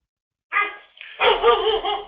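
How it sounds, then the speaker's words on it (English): Dogs bark at home as a son arrives on his Harley motorcycle, with a short bark followed by a louder burst of overlapping barks, close and clear. "the dogs have to bark because my son's coming home on his Harley"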